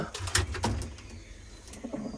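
Three pigeons coo in low, soft murmurs, overlapping calls close by, with a few brief flutters and chirps mixed in.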